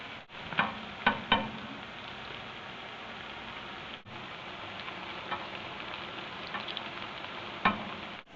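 Pumpkin fritters fry in hot oil with a dense, even crackling sizzle, broken by a few sharper pops and clatters, no voices over it.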